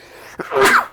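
One person sneezes once, close and loud: a short intake of breath followed by a burst that fades quickly.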